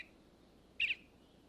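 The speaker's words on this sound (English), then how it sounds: "Blue as the spring sky, a male eastern bluebird looks for a mate." A single short, bright call of a male eastern bluebird rings out once over quiet background hiss, clear and fairly close.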